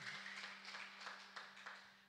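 Church congregation clapping for God, a faint, even rhythm of soft claps repeating about three times a second over a low electrical hum.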